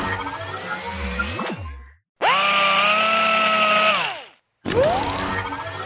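Loud whirring bursts of a power tool, three separate runs that spin up and wind down with short silent gaps between them.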